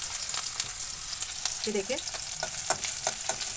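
Finely chopped ginger, garlic and green chilli fry in very hot oil, a soft, continuous sizzle with light stirring, and a voice briefly speaks over it.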